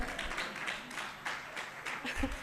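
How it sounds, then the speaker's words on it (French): Applause from a conference audience at the Ouagadougou Partnership Annual Meeting 2024, a steady wash of clapping that fills the space for a couple of seconds, with faint voices mixed in. "Applaudissez pour moi pour me donner l'inspiration"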